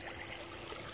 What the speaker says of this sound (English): I love the sound of the water going over the rock.